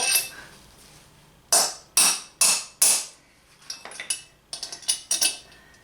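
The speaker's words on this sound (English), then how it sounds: "I'm gonna get a bigger hammer." A hammer strikes metal sharply and close by, driving brass valve guides out of a VW 044 Magnum cylinder head: four loud ringing blows in a steady rhythm, then a quicker run of lighter clinking taps.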